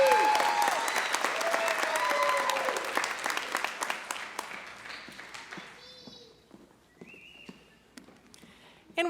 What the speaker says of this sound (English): Please join me in another round of applause for our 2023 Lubbock High graduates.